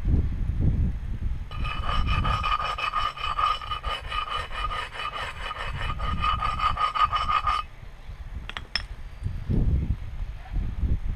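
Flint edge being abraded during flintknapping, a steady scraping rasp running for about six seconds without a break, close and fairly loud, with brief clicks and handling noise afterward.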